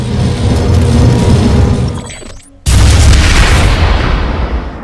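A perimeter shield generator blows up in the sci-fi shooter Planetside 2, a loud boom cutting off a brief lull, followed by a sustained rumbling, crackling blast wash that slowly fades.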